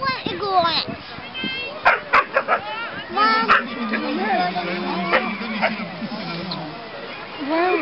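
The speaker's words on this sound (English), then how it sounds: "What dogs are they? Rottweilers." Rottweilers yelp and whimper in a run of short, close barks that overlap with loud talking voices throughout.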